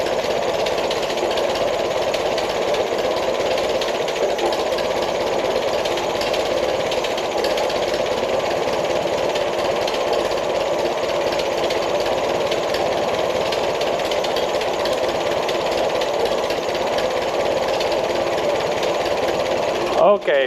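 A tractor engine brought back seized, now running, produces a loud steady mechanical drone with a rapid knocking chatter that holds unchanged for about twenty seconds, with a voice briefly heard.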